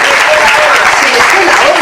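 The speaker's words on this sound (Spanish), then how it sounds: "le aplaudís, que necesita aplausos" A book-presentation audience applauds the author, broad continuous clapping from many people in a hall, loud and sustained with a few voices mixed into the steady patter.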